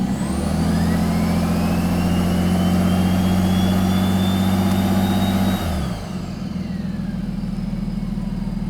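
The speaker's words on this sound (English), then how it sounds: "We have a running diesel now." A diesel car engine runs steadily without an exhaust, loud and close with a deep rumbling drone, then abruptly drops to a lower, quieter idle partway through.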